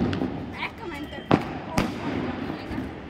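Village Diwali firecrackers crack and pop nearby, two sharp loud bangs standing out amid smaller bursts, with people talking and calling throughout.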